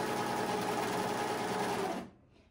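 A sewing machine stitching a seam, a steady close whirring drone with a fast even mechanical rhythm that runs continuously, then stops abruptly near the end, leaving near silence.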